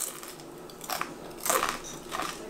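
Biting into a crunchy potato that was pressure-cooked and then oven-baked gives three sharp, crackly crunches spaced about half a second apart, close and crisp, with no talking.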